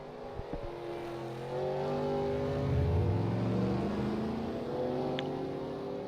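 Race trucks in a NASCAR-style truck series racing game accelerate out of pit road, several engines revving and whining together in rising, overlapping tones, steady and fairly loud with no talk.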